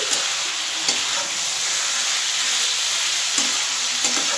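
Spice paste for a bottle-gourd-stem and fish-head chorchori sizzles steadily in a hot pan, with a few sharp scrapes as a spatula stirs it, close and continuous with no talking.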